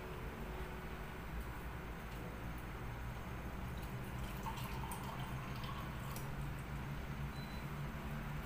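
Water poured into a hot pan of pancit canton stir-fried noodles, a faint steady trickle and sizzle under a low, even background with no talking.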